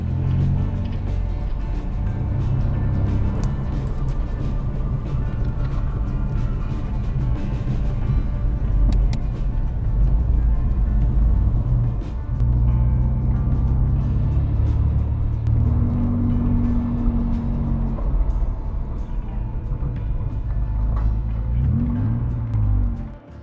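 A historic Ford Capri 2.8 Injection drives through Tintagel, Cornwall, its engine rumbling steadily from inside the car with small rises and falls in revs and no speech.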